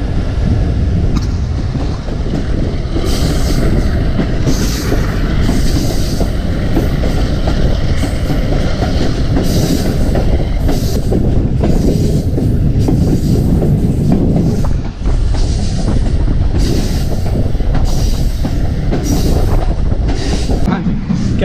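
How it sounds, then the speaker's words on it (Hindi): The Thall Express passenger train rolls along the rails through open country, a loud continuous rumble and rattle of carriages with wind buffeting the microphone and occasional rhythmic clatter from the wheels. "चले हमारी गाड़ी निकल खड़ी हुई है"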